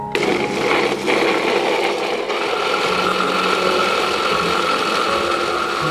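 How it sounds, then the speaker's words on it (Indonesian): An electric blender grinds a spice paste with cooking oil for an eel dish, its motor whirring in a steady, loud, close drone after a brief start, with no voices. "Kemudian ini akan kita haluskan menggunakan blender sampai bumbunya benar-benar halus."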